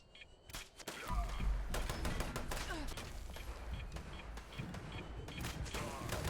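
Bow shots from a stealth archery build in Fallout 76 against a Super Mutant, soft thumps and impacts under low game ambience and quiet talk.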